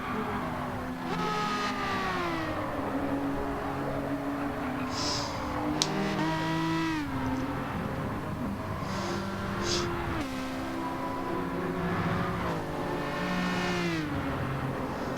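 Race cars lapping a track in Gran Turismo 7, engines revving and whining up and down through gear changes, loud and continuous, with brief shifts and downshifts into corners.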